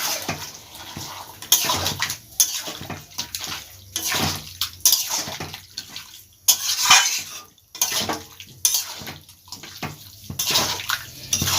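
Chicken sautés in a pan with a water-mixed paste of chilli, cumin, coriander and garam masala powders, producing loud close bursts of spluttering sizzle and scraping, clattering stirring that come and go in uneven waves.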